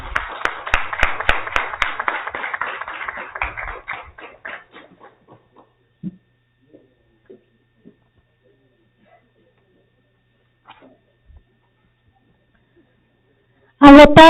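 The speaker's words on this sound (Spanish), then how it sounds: "compañeros, aplaudan a los policías que se lo merecen" Legislators in a Mexican legislative session applaud the police with a brief burst of clapping that thins out after a few seconds into scattered taps, then near silence before a loud sound at the very end.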